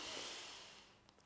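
A person slowly inhales in a breathing demonstration for martial arts kime technique: a soft, airy, close breath sound that gradually fades, alone with no talk.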